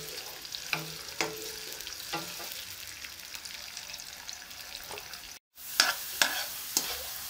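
Onions browning in a frying pan sizzle softly while a spoon stirs them in a series of scraping strokes, with a brief break before more stirring.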